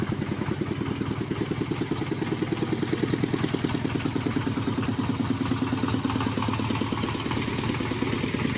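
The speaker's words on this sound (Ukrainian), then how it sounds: "вже загонить тракторця" A small farm tractor's engine idles and chugs with a steady rapid mechanical beat and some clatter, fairly close and unbroken, at dusk on a rural homestead.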